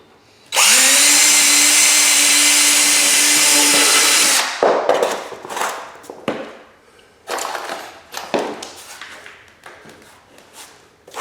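A power drill pre-drills holes through baseboard trim for nails, whining loud and steady for about four seconds before stopping. Scattered handling knocks and clatter follow.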